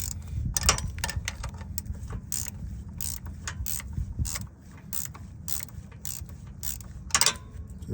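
A Snap-on BXORM 706 ratchet loosens the lower engine mount bolt on a 2017 Nissan Altima 2.5 L four-cylinder, giving rapid, close ratcheting clicks in repeated bursts over low mechanical rumble.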